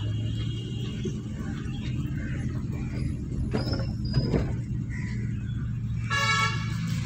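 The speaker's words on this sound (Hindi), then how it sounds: "हॉर्न बजाओ" A car horn honks once near the end, sounded before a blind turn, over a steady engine rumble inside a moving car, with faint clatter earlier.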